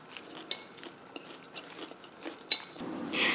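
Raw kale and apple salad is chewed with a soft crunch in quiet, close bites spread across the moment, including a sharper crunch near the end.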